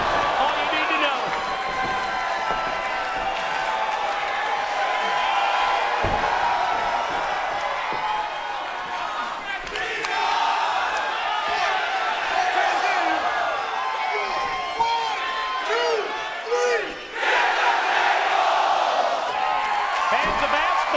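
A wrestling arena crowd at a no-disqualification TNA event roars and cheers continuously in waves, with a commentator talking over the noise.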